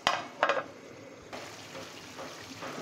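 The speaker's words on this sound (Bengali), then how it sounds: "আমি এখন মাংসটা ঢেকে দিচ্ছি।" Beef cooking in a pot for gorur mangsho kosha: a couple of sharp metallic clanks as the lid goes on, then a muffled, steady simmering hiss beneath it.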